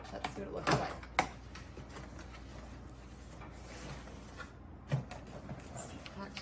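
A robot vacuum cleaner box, a lubluelu SL68, being opened, with a few sharp cardboard thumps and rustles up close while a person talks.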